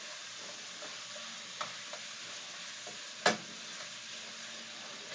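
Food browning in a pan gives a faint, steady sizzle, with a few light utensil taps and one sharper knock partway through, heard close and alone.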